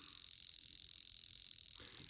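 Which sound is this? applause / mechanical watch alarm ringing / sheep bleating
mechanical watch alarm ringing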